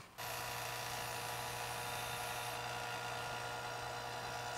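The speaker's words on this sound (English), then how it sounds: "I'm gonna pop on the lid and then start up the vacuum." A vacuum pump starts abruptly and runs with a steady high-pitched electric whine and hum, pulling vacuum on a lidded chamber of resin for stabilizing rotten wood, loud and unchanging for a few seconds with no voices.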